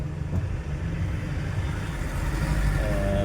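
Road traffic during a short trip makes a steady, loud, continuous rumble of passing vehicles that fills the whole stretch, with no one speaking.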